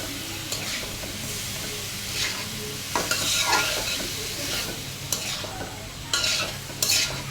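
Boiled beef tongue and potatoes being sautéed in a pan, a continuous sizzle broken by repeated scraping stirs and clanks of a spatula, close and fairly loud with no talking.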